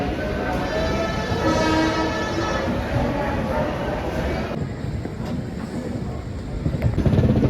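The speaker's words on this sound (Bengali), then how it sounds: "আমাদের ট্রেন এখন ছেড়ে বেরোচ্ছে শিয়ালদহ স্টেশনের 12 নম্বর প্ল্যাটফর্ম থেকে" The Darjeeling Mail train pulls out of platform 12 at Sealdah station in Kolkata, its loud rumbling of wheels and carriages filling the air nearby, with a sharp shift partway through and station noise and voices mixed underneath.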